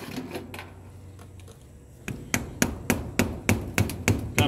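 Hammer striking a large geode dug from hard shale, starting with scattered light taps and then a steady run of about ten sharp, close, evenly spaced metallic knocks.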